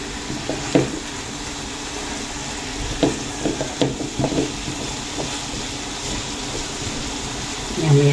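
Papaya cooking in a pan for fish escabeche, giving a low steady sizzle with scattered soft clinks and stirring knocks, while a person speaks over it.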